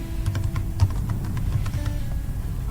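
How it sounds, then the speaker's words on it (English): Keys clatter on a computer keyboard as a keyword is typed, a quick irregular run of close, crisp clicks with no talking. "So just type in the keyword"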